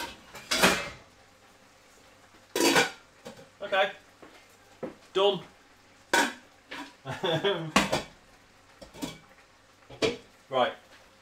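Pots, pans and utensils clatter in a home kitchen while chicken korma with pilau rice is being cooked. Loud, sharp bursts of metal clanging and rattling arrive in irregular clusters, close by with short pauses between.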